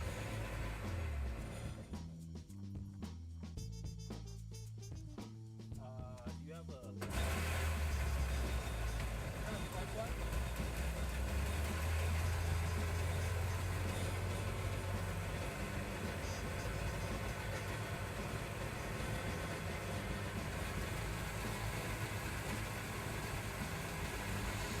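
A Sea-Doo Challenger 1800 boat engine idles steadily after a rave valve install, a low continuous rumble that thickens and grows louder about seven seconds in as the revs come up, with talk heard over it.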